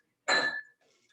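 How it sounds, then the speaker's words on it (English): Ice clinks in a glass while a bourbon drink is made, a single bright, close glassy clink that rings briefly and fades, with a faint rattle after it. "So get our glass with ice in there too."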